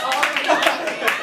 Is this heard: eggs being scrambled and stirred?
no